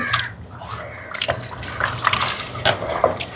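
Rice is rinsed and swished in water with salt, with close splashing and sloshing in irregular bursts and brief drips between them.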